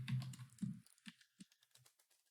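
Someone types code on a computer keyboard, a quick run of close, light key clicks that thins out into a few separate taps at the end.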